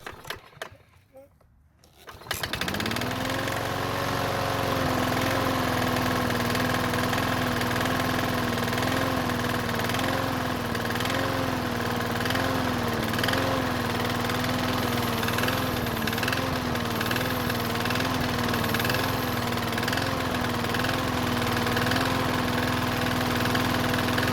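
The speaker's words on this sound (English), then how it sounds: "There was also a bit of knocking from the engine that's easy to hear when it's dying." After a brief quiet start, a lawn mower engine that smokes heavily starts and runs steadily, with a droning hum and faint irregular knocking throughout.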